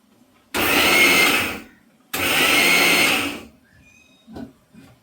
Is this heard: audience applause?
no